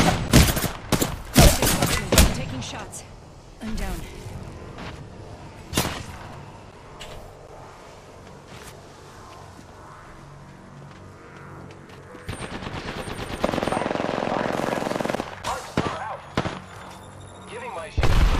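Scattered gunshots in a shooter video game, a cluster of loud sharp cracks at the start, then sparse single shots, with a sustained louder rumble of fire building near the end.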